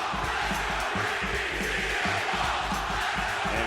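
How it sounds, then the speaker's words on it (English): Wrestling arena crowd in Greenville during a CM Punk match, loud rhythmic chanting and cheering in a steady repeating beat from a large audience filling the space. "We still have a split crowd, but my god, just listen to them here."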